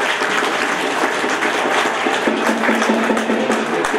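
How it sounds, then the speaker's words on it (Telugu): A crowd at a job fair applauds steadily, with dense clapping filling the room throughout. "క్లాప్స్ కొట్టండి."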